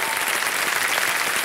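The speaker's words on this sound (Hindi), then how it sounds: "एक बार जोरदार ताली बजा।" A studio audience on Kaun Banega Crorepati claps in a steady, dense burst of applause, loud and even throughout with no talking over it.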